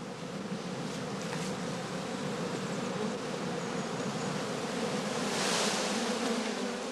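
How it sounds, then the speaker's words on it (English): Honey bees swarm in a straw skep, their dense, continuous buzzing loud and close with no pauses, a thick drone of many insects at once. "Bees removed, that the beekeeper does not want for his overwintering skeps, are collected in an empty skep reserved for sale."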